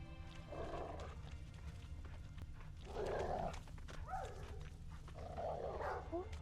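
Faint horse snorts or whinnies in The Witcher video game, three short breathy bursts over a low steady background hum, with no talk.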